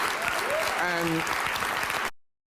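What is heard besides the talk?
studio audience clapping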